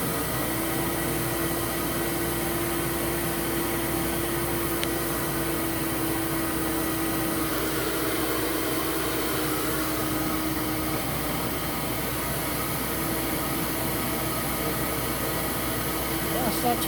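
A Metropolitan vacuum cleaner with a power nozzle attached runs steadily on its low setting, a constant close broadband whoosh with a faint whine, unbroken throughout.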